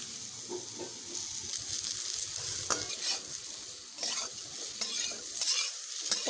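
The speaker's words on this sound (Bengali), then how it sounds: "পটলগুলোকে এইভাবে একটু ভালোভাবে ভেজে নিতে হবে।" Sliced pointed gourd fries in oil in a pan, a steady bright sizzle broken by repeated scraping stirs of a spatula, close and continuous with no talking.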